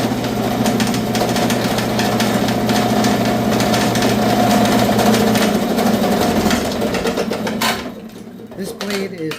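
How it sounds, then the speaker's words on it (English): A saw blade cuts soft wood for a sign, a loud, steady buzzing motor drone with a rapid vibrating chatter that holds for several seconds, then winds down and cuts out near the end. "This blade is not meant to cut soft wood"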